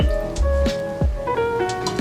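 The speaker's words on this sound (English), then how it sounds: "Add water to the pan." Water poured into a pan while making Southern candied yams, a few close splashy gurgles and drips with faint ringing tones, loud and brief.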